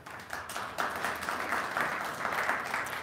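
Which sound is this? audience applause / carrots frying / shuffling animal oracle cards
audience applause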